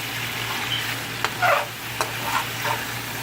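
Steady hiss of oil frying, with a few brief crackles and spatters over a constant low hum.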